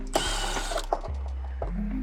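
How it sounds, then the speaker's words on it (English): A 10mm ratchet backs bolts out of a Suzuki Jimny JB74 front bumper, with several short, close metallic clicking bursts and small knocks spread over two seconds. "Now we'll grab our 10mm and we'll take these out from here."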